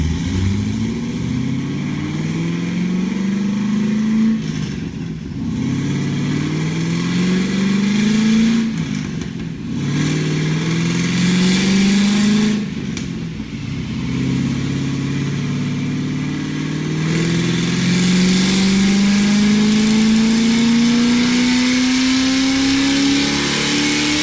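Car with an LS V8 engine and an aftermarket camshaft, loud and up close, revving through several rising pulls that drop back between them, with a long final climb.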